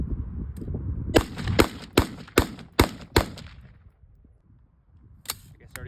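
Handgun fired at a target during drills, six sharp, loud shots in a fast, even string, followed by a quiet pause and then a faint, distant shot or two, with soft background noise before the string.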